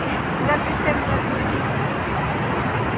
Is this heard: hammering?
no